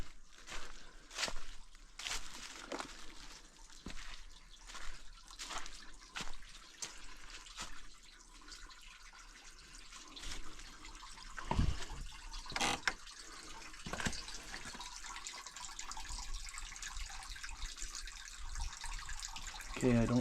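Water trickles and drips into a stone catch basin in the Great Smoky Mountains, making a continuous soft splashing with irregular louder drips, fairly faint and close, with occasional sounds of people moving nearby.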